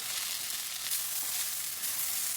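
Two parshe fish fry in a pan with a steady, even hiss of oil. The sizzle is fairly soft and continuous, with no voices.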